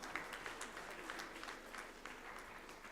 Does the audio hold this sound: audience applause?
yes